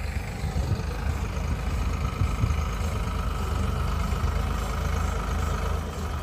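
A John Deere tractor pulling a rotavator through a field, its engine droning steadily at a constant, fairly loud level, with no talking over it.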